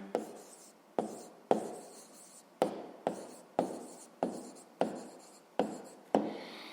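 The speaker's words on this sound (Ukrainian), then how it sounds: "записуємо відповідь" Pen writing out a maths answer on paper, a steady series of about ten close, quiet scratching strokes in an even rhythm, with no talking.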